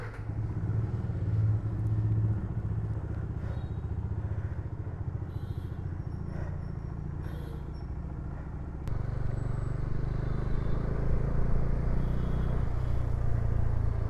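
A Bajaj Dominar 400 motorcycle is ridden on city roads, with a steady low engine rumble and road noise throughout and the engine note rising slightly partway through.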